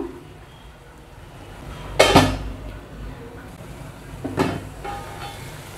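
A metal lid goes onto a pot of simmering vajaram dry fish thokku, with two sharp clanks about two seconds apart over a quiet background hiss.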